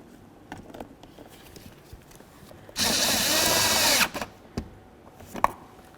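A power drill runs in one steady burst of a bit over a second, driving in the side mirror bolt on a 2006-12 Ford Fusion, loud and close, with light clicks and handling noise before and after.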